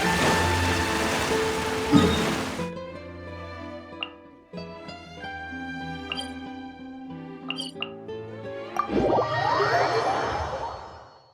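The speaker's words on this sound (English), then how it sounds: "It's raining again?" Steady rain hisses loudly in Genshin Impact for the first few seconds, then cuts off abruptly as gentle melodic music with soft chimes takes over.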